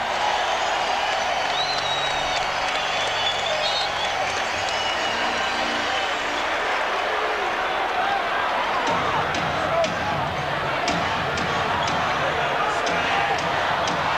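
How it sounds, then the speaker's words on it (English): Crowd noise at an Atlanta Hawks basketball game in a packed 1997 playoff arena, fans roaring and cheering steadily with some clapping, with faint ball bounces possible underneath and a broadcast commentator's voice running throughout. "the Atlanta crowd is on its feet again"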